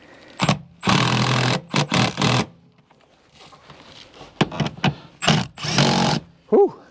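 Power tool driving the bolts that hold a seat back into a VT Commodore, heard as several loud, short whirring bursts separated by pauses and quieter clatter, with one longer burst near the start.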